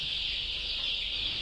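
Native desi country chickens at a nati koli breeding centre in Hubli, Karnataka, make a dense, steady, high-pitched chorus of peeping and clucking with no single call standing out.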